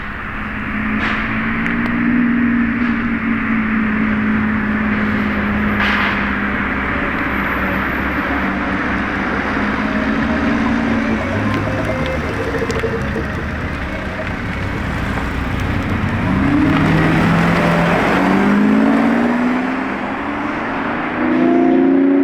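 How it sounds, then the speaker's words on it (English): A loud Lamborghini Revuelto supercar roars past with a sustained, rising and falling engine note that stays strong throughout, close by and with no talk. "Careful guys, very loud Revuelto incoming."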